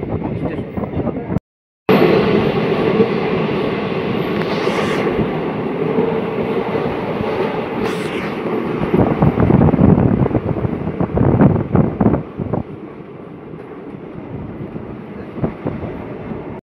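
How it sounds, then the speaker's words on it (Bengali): A passenger train on the Bhabta to Rampurhat line runs with a loud, steady rumble and rattling from inside the carriage, with wind buffeting, a brief dropout near the start, and a voice talking over it. "স্বাগতদিঘি এসে পৌঁছালো আমাদের ট্রেন"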